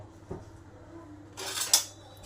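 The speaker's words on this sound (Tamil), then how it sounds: "மிளகு ஜீரகத்தை நல்லா வறுத்தடலாம்" Fenugreek, mustard seeds, pepper and cumin dry-roasting in a pan for a small onion pickle, heard as a soft scrape followed by a brief, close rattling clatter of spoon and seeds against the metal.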